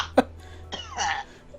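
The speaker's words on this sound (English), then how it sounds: "Could you just cough towards the cauldron a bit" One short, close cough, then a raspy throat-clearing sound, both faint over a low steady hum.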